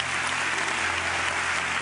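A studio audience at a Brazilian religious TV program claps together, a short, dense, even burst of applause.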